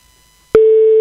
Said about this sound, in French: Ça sonne. Vous entendez la sonnerie ?